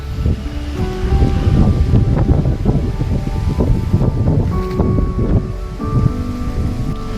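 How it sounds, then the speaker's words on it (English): Strong wind buffets and roars continuously at night beside a seawall at a lake in South Wales, gusting loudly with rustling and low rumbling throughout. "Crazy winds, obviously, because you know, just behind the seawall"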